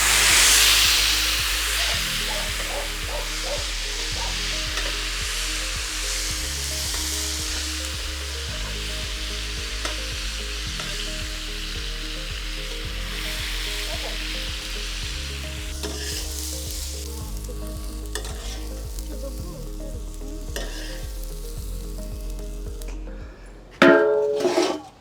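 Tomatoes frying and being stirred in a hot pan for a fish curry, a steady loud sizzle with repeated scraping stirs throughout, ending in a brief louder clatter near the close.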